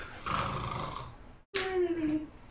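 A voice imitates a dog gently snoring, with drawn-out raspy, rumbling breaths, a short pause, then another groaning snore, close and fairly loud.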